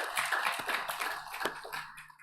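A congregation claps together during a Sunday church service, a dense, steady patter of many hands that fills the room and tapers off toward the end.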